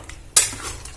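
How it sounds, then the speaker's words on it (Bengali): A spoon scrapes once through a pot of vegetarian elephant foot yam curry, a sharp close stir that fades into a soft simmering hiss over about a second. "দিয়ে আবারও ভালো করে নাড়াচাড়া করে নেব,"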